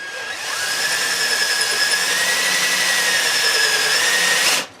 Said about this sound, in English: you can always take the end of your drill bit and use it still